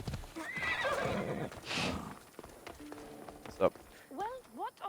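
A horse in Assassin's Creed Odyssey gives a short rising whinny and a few snorting calls near the end, after a stretch of hoof clip-clops, while someone talks over the game.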